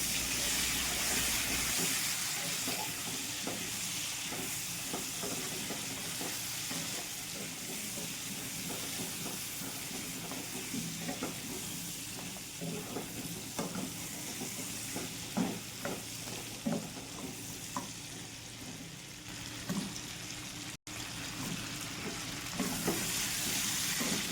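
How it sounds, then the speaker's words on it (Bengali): Pointed gourd frying in hot mustard oil with salt and turmeric: a long, even hiss of sizzling oil close by, with scattered light stirring taps and scrapes, and no one speaking. "পটল এখানে ভাজা হচ্ছে।"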